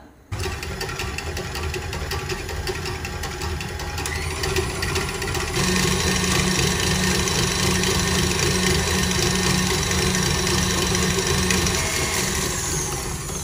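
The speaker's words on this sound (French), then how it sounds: "On va commencer à monter la crème chantilly petit à petit tout en continuant d'augmenter la vitesse" Electric mixer whipping cream with sugar into chantilly, a continuous loud motor whir that steps up in speed partway through and holds steady, no voices.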